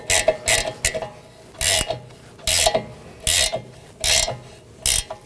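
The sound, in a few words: ratchet wrench tightening sway bar link nut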